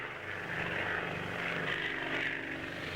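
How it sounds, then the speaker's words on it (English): De Havilland Canada Turbo Beaver and Twin Otter propeller aircraft at the 1966 Farnborough air show, making a continuous loud propeller and engine drone with a rising and falling whine and no voices. "De Havilland of Canada display their Turbo Beaver, utility transport for 10 passengers or a ton of cargo, and the Twin Otter"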